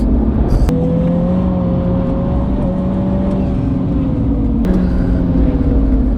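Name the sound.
sports car engine accelerating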